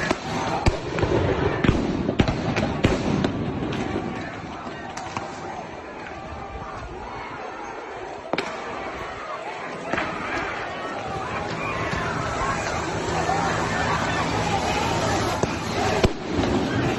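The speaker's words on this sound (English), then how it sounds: "you could hear them firing now their rubber bullet" Police fire rubber bullet guns at fleeing protesters, with scattered sharp pops over a dense, steady roar of crowd noise and commotion throughout, heard from within the scene.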